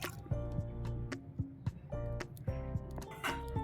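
Fingers stir oil and water together in a bowl while making pitha, producing soft, wet squishes and drips in an uneven rhythm, close and fairly quiet.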